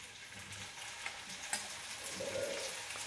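Sweet puri frying in hot oil, a soft steady sizzle and bubbling with a few light clicks, quiet and close, with no speech.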